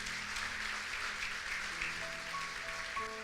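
A congregation claps for the Lord during a morning online church service, a steady, fairly soft wash of applause with faint tones of instruments or singing underneath.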